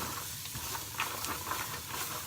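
Onions and leeks sweating in a pot for chicken stock, giving off a steady soft hiss and steam with faint stirring scrapes throughout, fairly quiet and without talk.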